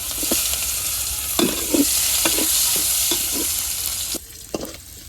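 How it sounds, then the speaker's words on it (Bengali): Onions fry in oil left from frying sea fish, a continuous loud sizzle broken by repeated scraping strokes of a spoon stirring the pan; the sizzle drops away near the end. "পেঁয়াজ কিছু দিয়ে দিলাম"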